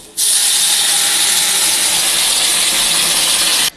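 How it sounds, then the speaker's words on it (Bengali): Water poured into a hot cooking pot while making khichuri, a steady, loud hissing gush that starts abruptly and holds evenly for over three seconds before cutting off, with no voices. "এইবার দেখো আমি এর মধ্যে জল দিয়ে দেবো"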